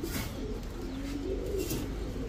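A male Damascene pigeon coos softly with a low, rolling call repeated over a faint steady background.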